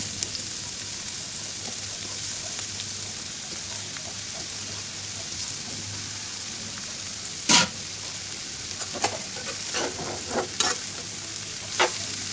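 Snake gourd stir-frying in a pan with onion and green chili, a steady bright sizzle throughout with several sharp scraping clatters of stirring in the second half, close and alone.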